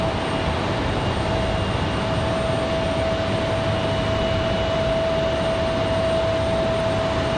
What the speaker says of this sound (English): Looks like an A320-200.